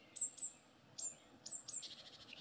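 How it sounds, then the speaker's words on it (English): Several short, high bird chirps in a garden, spaced irregularly and then clustering into a quick trill near the end, over quiet outdoor background. "listen to those birds."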